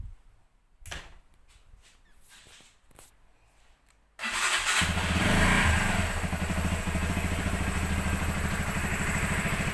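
A Zontes 125 café racer motorcycle fires up on its electric starter after a few quiet clicks and handling noises, then settles into a loud, steady, close idle with an even throbbing beat.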